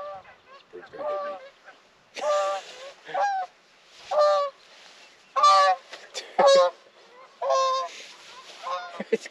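A goose on a lake honks loudly nearby in a run of repeated nasal calls, some in quick pairs, with short gaps between bursts.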